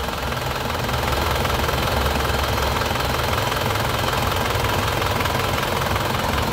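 Isuzu Panther 2.5 diesel engine from a 2006 LS manual, idling steadily and close up, a continuous low rumble with a faint knocking texture and no talk over it.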